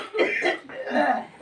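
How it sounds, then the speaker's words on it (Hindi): A person coughs twice in quick succession, loud and close, with a throaty, breathy rasp. "उसको खांसी शुरू हो जाती है"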